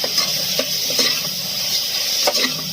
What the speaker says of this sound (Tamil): இதில் தக்காளியும் சேர்த்து நல்லா இப்போ வதக்கி விட்டுருக்கோம்.